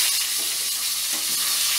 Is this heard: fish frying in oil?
yes